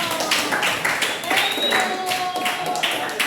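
Classroom applause rings out as a crowd of students claps in a fast, continuous patter, moderately loud and steady, with a voice speaking over it.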